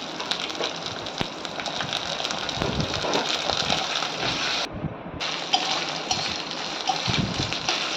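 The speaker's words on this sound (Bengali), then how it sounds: "এরপর আমি আদা রসুনের পেস্ট দিচ্ছি" Ginger-garlic paste hits hot oil with fried onion in the pan, giving a steady wet hiss and splutter, close and continuous with a brief dip midway, no talk.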